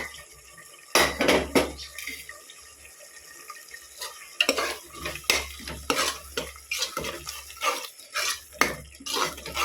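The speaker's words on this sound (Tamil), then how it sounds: "இப்போ நம்ம அந்த பொடியெல்லாம் போட்டு வதக்கி விட்டோம்" Spice powder sautéed with curry leaves and mint in a pan, with a ladle scraping and clanking against the metal in irregular bursts over a low background sizzle and occasional tapping of utensils.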